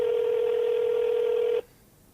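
Telephone being dialed: a single steady dial tone holds for about a second and a half, then cuts off abruptly, leaving faint room hiss.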